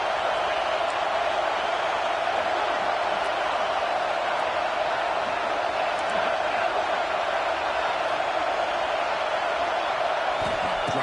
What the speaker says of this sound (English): Crowd coming to life here